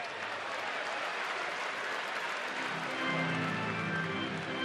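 A crowd of more than 48,000 at a Major League Baseball game between the Angels and the Rangers in Texas sends up a steady, broad wash of cheering and clapping that rises a little partway through.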